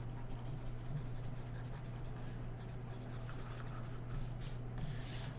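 An eraser rubs steadily across paper to remove pen writing, a continuous close scratchy friction with slight surges, heard alone over a low steady hum.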